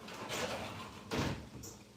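A household door is opened to let a dog out, two short knocking, rattling bursts a second apart with a faint clink at the end, quiet and close in a still room.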